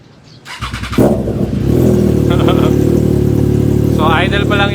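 A Triumph Trident 660 motorcycle with a custom exhaust and three-into-one headers fires up and settles into a steady, loud, close idle, with people talking over it.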